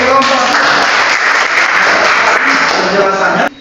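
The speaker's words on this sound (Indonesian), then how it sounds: "Tepuk tangan untuk kelompok" Classroom applause for a presenting group of students in a mathematics class, a dense, loud burst of clapping that holds steadily for over three seconds before cutting off abruptly.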